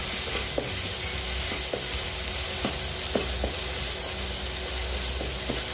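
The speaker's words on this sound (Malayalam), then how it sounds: "എണ്ണ നല്ലതായിട്ട് ചൂടായിട്ടുണ്ട്. അതിലേക്ക് നമ്മൾ ചതച്ച ഉള്ളി നല്ലതായിട്ടൊന്ന് ഇളക്കി കൊടുക്കാം." Crushed onions frying in hot oil for a spicy crab roast, a dense continuous sizzle with light, spaced clicks of stirring, close and steady without any voices.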